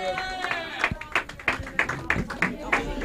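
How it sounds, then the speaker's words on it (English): A small crowd applauds a trivia team called the Chili Dogs, with rhythmic claps and cheers mixed under a voice talking over them. "Nice round of applause."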